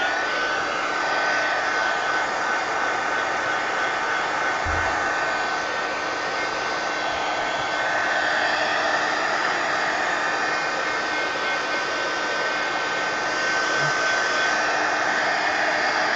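A hair dryer drying a wet ink paint layer: steady high whooshing blower roar, loud and continuous with an even pitch throughout, no talking.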